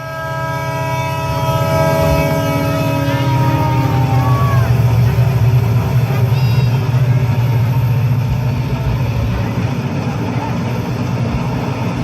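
A train sound effect plays loudly during a school annual day stage drama, a steady rumbling rail noise with a long wailing horn-like tone at the start, while voices speak faintly beneath it.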